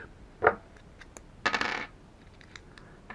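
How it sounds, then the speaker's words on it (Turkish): Batteries drop out of a TV remote control after its back is pried open with a flat screwdriver, giving a short clatter followed by a longer rattling tumble, close and fairly quiet with no talk. "pillerimizi düşüreceğiz."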